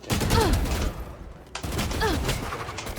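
Gunfire in the Valorant video game: sharp bursts of shots, dense at the start and again after a brief lull, with voices talking over the shooting.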